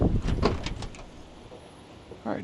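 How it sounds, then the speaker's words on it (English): The door of a 1971 Chevelle SS is opened, giving a few close mechanical clunks and latch knocks at the start, then a quieter stretch and one more short knock at the end. "All right, doors open wonderfully."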